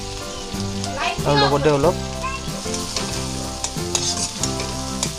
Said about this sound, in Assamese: আদা নহৰু পেষ্টখিনি এনেকৈ ভাজিম।